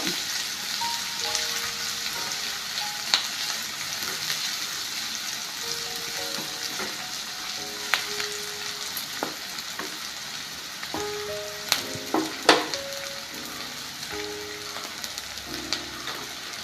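Coconut masala for a Kerala-style egg curry frying in a pan while being stirred, a steady close sizzle with scattered clinks and scrapes of a spoon against the pan.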